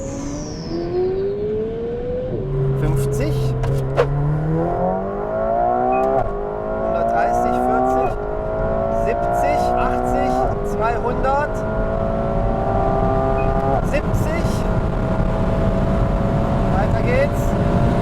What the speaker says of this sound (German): Und lade mal 2-3 Gänge runter und dann beschleunigen wir mal durch.